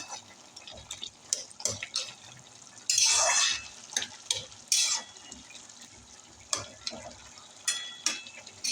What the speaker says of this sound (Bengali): বেশ ভালো করে আমি নেড়ে চেড়ে নিলাম।